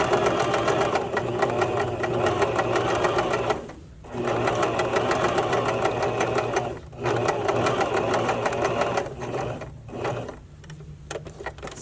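A home sewing machine stitching elastic onto a handmade bra runs in a steady, close mechanical whir. It stops briefly three times, once near four seconds, again near seven and again near ten, then resumes, with no talking.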